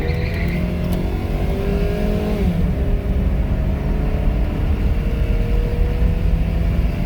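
A Ford 7.3 IDI diesel engine in a ramp truck roars at full throttle, a loud, steady, close-up drone with a gear change partway through as the pitch drops and climbs again.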